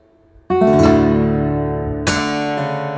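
Acoustic fingerstyle guitar playing the first two bars of a piece, a bright strummed chord ringing out followed by a second sharp tap strum, close and resonant, unaccompanied.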